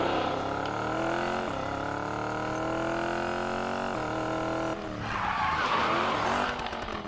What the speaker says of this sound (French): On entend bien le V8 qui résonne.